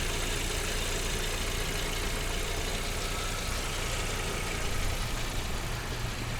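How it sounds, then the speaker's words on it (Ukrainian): A petrol Audi A4 B-series restyling engine idles steadily under an open hood, a constant, even, close-up drone with no talking. "Ось так працює двигун, надіюсь ви чуєте."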